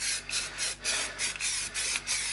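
A can of rust-protection spray paint shaken hard, a rhythmic series of about eight rattling swishes in quick succession, close and loud, with no talking.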